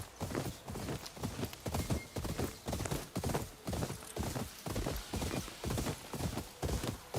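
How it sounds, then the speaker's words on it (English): Horse hooves clip-clop steadily in a video game, a brisk, even gallop of close, distinct hoofbeats repeating throughout, with no talk over it. "I'm gonna steal one of your guys' horses."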